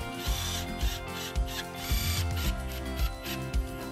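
Screws on a sliding door installation frame are driven in with a clicking, ratcheting tool, giving short mechanical bursts with brief pauses between them.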